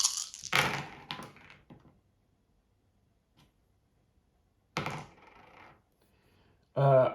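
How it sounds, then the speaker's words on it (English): Seven dice tumble across a table for a Zombicide board game attack, giving a few clattering bursts of hard little impacts separated by quiet gaps, close and alone with no talk over them. "We're actually rolling 7 dice for this."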